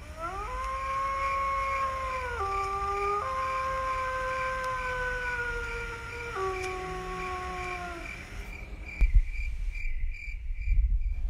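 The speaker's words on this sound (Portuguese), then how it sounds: "Em algum lugar nos bosques, um lobo uivou." Long wolf howls drift through woods as a sound effect, several sustained wavering tones gliding between pitches over insect-like chirring, fading out and giving way to rustling and thuds near the end.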